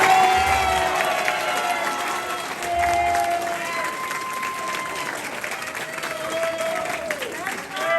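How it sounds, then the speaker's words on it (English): Audience applause at a senior awards night, a steady wash of clapping from a crowd that runs unbroken throughout, with faint whistles and scattered cheers rising above it. "I'd like you all to have a round of applause for her."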